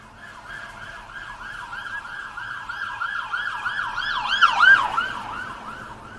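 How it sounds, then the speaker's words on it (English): An emergency service vehicle's siren wails in a steady rising-and-falling pattern on a road, growing louder as it approaches and peaking close by near the end, with traffic rumble underneath. "I was even able to see the emergency service vehicle coming far up the road"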